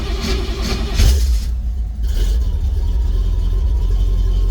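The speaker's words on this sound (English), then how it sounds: "I crank it over." A 1954 Willys engine cranking over and catching, a steady close rumble with a brief break before the idle settles into a continuous drone.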